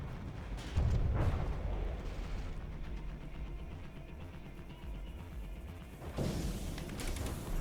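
Ships exchange fire in a naval battle video game, with deep booming impacts and explosions, one heavy blast near the start and another later, over a low rumbling background of moderate, somewhat distant loudness.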